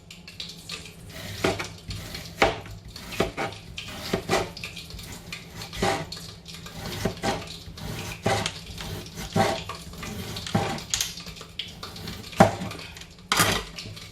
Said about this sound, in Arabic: نزيد نوريكم تاني البطاطا راح نقطعها بهذا الفاصون اوسي